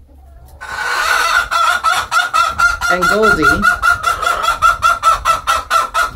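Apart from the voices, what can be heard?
hens clucking in a chicken coop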